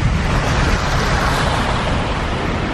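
Ocean water makes a steady, dense rushing roar, loud and continuous with wind buffeting mixed in and no distinct individual wave breaks.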